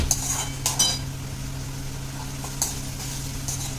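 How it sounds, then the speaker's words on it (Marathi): Onion sautéing until pink in a pan, for the fried masala of a traditional CKP dry-prawn khichdi: a few sharp spatula clinks and scrapes over a steady low sizzle and hum. "आपण कांदा घेतला आहे तो गुलाबी रंगावर परतून घ्यायचा आहे"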